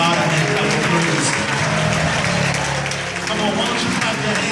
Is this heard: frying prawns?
no